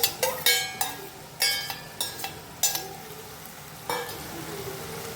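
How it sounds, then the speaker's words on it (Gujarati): Bottle gourd added to a pan of sautéed paste for a dudhi chana dal dish, sizzling while a metal spoon scrapes and clinks against the pan in a string of sharp strokes, close and with no voices. "સતળાઈ ગઈ છે એટલે આપણે એમાં દૂધી એડ કરી દઈશું."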